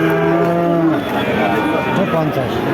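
A Deshi-breed cow lets out one long, low, drawn-out moo close by at a cattle market, filling nearly the whole moment.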